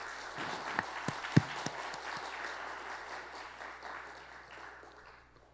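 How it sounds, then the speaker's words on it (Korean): A church congregation applauds Jesus' resurrection with scattered, crowd-wide clapping that holds steady and fades out toward the end, with a few sharper claps standing out near the front. "부활하신 예수님께 박수를 한번 올려드리십시다."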